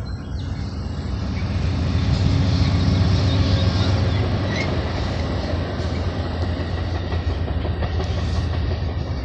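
An Amtrak passenger train, number 6, rumbles past close by at West Sacramento, a steady loud roar of wheels and rails with faint clacking, sustained throughout with no voices.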